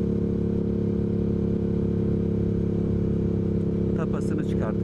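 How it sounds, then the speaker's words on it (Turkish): A Yamaha MT-07 motorcycle with its exhaust baffle plug removed idles with a loud, steady, deep rumble close by, and brief voices or background noise rise near the end. "Yani egzoz takmadık da aslında tapasını çıkardık."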